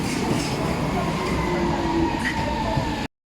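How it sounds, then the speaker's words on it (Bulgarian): A train in Torremolinos, Spain rumbles steadily along the rails from inside the carriage, a loud continuous low roar with faint squeals and clatter that stops abruptly at the end. "Качваме се на влака без билет."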